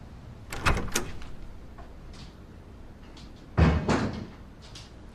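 A door swings and bangs shut twice, each time with a sharp knock followed by rattling, separated by a stretch of quiet room tone.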